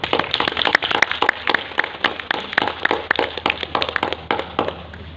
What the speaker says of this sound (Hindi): तो आइए सभी एक बार उन धरती से सोना उगाने वाले किसानों के लिए तालियां बजाएं।